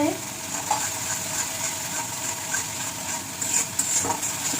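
Pabda fish in poppy seed paste fries in oil in a kadai, with a steady close sizzle and occasional scraping stir sounds.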